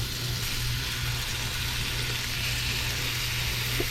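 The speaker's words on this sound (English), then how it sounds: "Let's see if our fish is gonna sear." Wahoo fish sears in melted butter in a cast iron pan, giving a steady, even sizzle that holds without a break, close and moderately loud.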